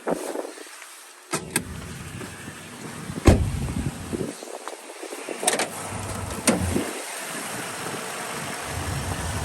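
A 2008 Toyota Tundra's 5.7-litre iForce V8 engine idles steadily close by, a low continuous rumble broken by a few sharp clicks and knocks.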